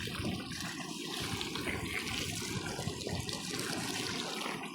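Water pours and splashes continuously onto the roots of a transplanted palm tree outdoors, a steady, dense gushing rush heard close up with no talking.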